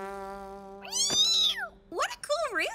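A cartoon cat gives a pair of high, bending meows, loud and close, the second broken into wavering yowls, with a steady electronic tone running underneath at the start.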